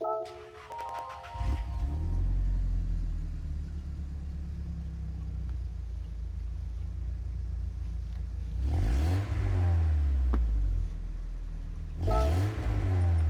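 A 1988 Nissan Silvia Q's (S13) engine in Gran Turismo 7 cranks and catches, settling into a steady low idle rumble, then revs up sharply twice, with short gaps between the bursts.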